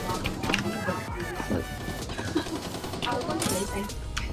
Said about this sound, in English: The teammate shot me for no reason.